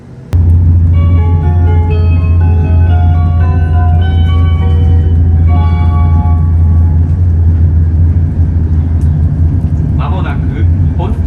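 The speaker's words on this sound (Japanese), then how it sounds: "熊谷駅を発車、上越新幹線を北へ進みます。" Joetsu Shinkansen train pulling out of Kumagaya station, heard from inside the car: a loud, steady low rumble with a sequence of tonal notes sounding over it as the train gathers speed.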